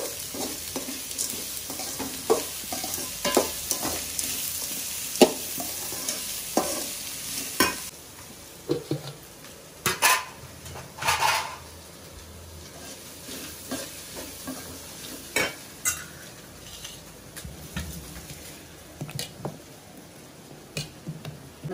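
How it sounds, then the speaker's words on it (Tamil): Chopped onions sauté with salt in a pan for sorghum millet paniyaram, a soft steady sizzle broken by repeated close scraping stirs and light clicks of the spoon against the pan, with no talking. "அது போட்டோம்னா வெங்காயம் சீக்கிரமாகவும் வதங்கிடும்."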